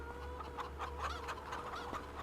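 Chickens in a farming video game cluck in a busy, steady stream of short calls over a low constant hum, moderately close with no talking.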